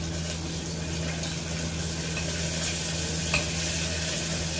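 Garlic and dried red chillies fry in oil with a continuous dense sizzle under a steady hum, close and even, one small pop near the end, no speech.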